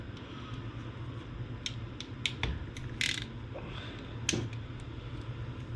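Crimper squeezing a wire connector onto Subaru fuel injector wiring, a few sharp close clicks and snaps over a steady low hum in a quiet garage.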